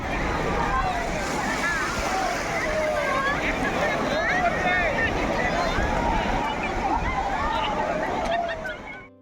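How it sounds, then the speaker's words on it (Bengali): Sea waves breaking on the beach at Puri, heard as a steady loud wash of surf mixed with wind buffeting the microphone, with voices and crowd chatter running along underneath. "আমরা এসে গেছি সমুদ্রের ধারে আমাদের পেছনেই সমুদ্র"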